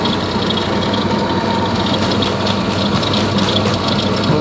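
Wet grinder taking down the edge of a handmade pendant, a loud steady motorized whir mixed with splashing water and gritty grinding, continuous and close.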